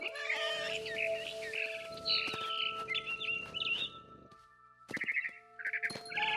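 A cat meows repeatedly in a video game, What Remains of Edith Finch, in clear high-pitched calls over a steady electronic drone, with a brief quieter gap before a final run of meows; a scared bird's chirps may be mixed in.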